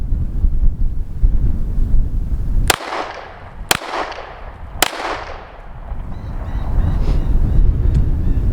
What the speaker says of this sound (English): It's windy out and I'm cold, and the wind's blowing my bullets around everywhere.